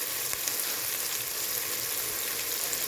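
Onion, garlic and ginger fry and get stirred in a pan, giving a steady, close, loud sizzle with faint scraping under it and no talk.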